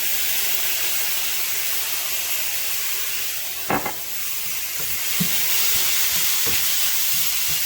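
Steady frying sizzle of Worcestershire sauce with beef and mushrooms in a pan, a constant close hiss with a few brief clinks and stirring sounds partway through.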